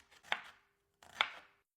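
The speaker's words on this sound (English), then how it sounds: "we're just going to finely dice 1 whole shallot" A knife finely dicing a shallot on a cutting board gives two distinct chopping strikes about a second apart, crisp and close, with no voices.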